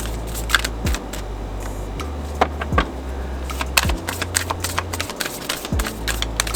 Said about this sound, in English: So general shuffle.